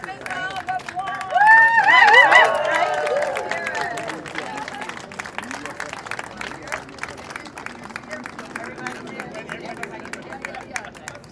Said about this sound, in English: We need a big round of applause